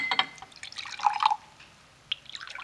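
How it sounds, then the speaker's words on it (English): A drink is poured: brief splashy trickles of liquid into a glass, with a short burst at the start, a louder gurgle in the middle and a small splash near the end, close and quiet, without talk. "I'll pour us a drink."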